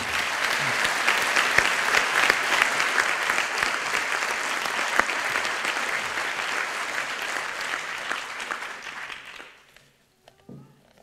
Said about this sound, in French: Je vous demande de les applaudir à la hauteur de leur mérite